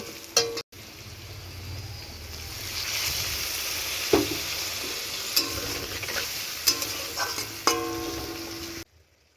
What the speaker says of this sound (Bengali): সমস্ত মশলা মিশিয়ে নিয়ে সামান্য জল দিয়ে দেব মশলাটা কষানোর জন্য